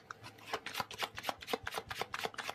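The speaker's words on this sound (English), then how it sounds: "Let's get some oracle cards for you." Oracle cards being shuffled by hand in a run of quick, crisp riffling bursts at close range, with no talking.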